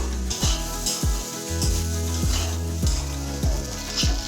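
Okra fry sizzles steadily in a pan on the stove, with a spatula scraping and stirring in regular strokes about every half second, close and fairly loud, no talking.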